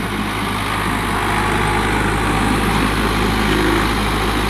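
A farm tractor engine runs steadily and loudly at close range, a constant low rumbling drone with no pauses or changes across the clip.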